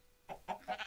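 A sheep in the Minecraft video game bleats in three quick wavering pulses, clear and moderately loud, with no talking.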